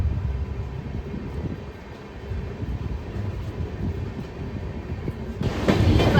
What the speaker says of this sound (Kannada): ಡಿಪಾರ್ಚರ್ ಆಗ್ತಿದೆ ನಮ್ಮ ಟ್ರೈನ್.